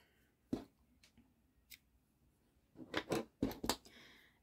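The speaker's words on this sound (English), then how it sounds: "So we're going to cut this yarn off" Scissors snip through yarn at close range in a quiet crochet setting, making a few sharp isolated cuts followed by a quick cluster of crisp snips, with no talking.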